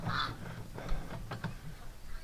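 Ducks give a few quacks close by, one call at the start followed by a couple of short bursts later, with no talk over them.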